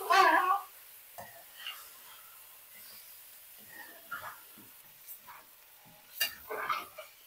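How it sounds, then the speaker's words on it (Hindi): Chicken for Sindhi biryani being stirred in a pot gives a few intermittent spoon scrapes and clanks over a faint sizzle, close and fairly quiet, separated by quiet gaps. "अब मैं चिकन को कलर चेंज हो जाने तक पका लूंगी"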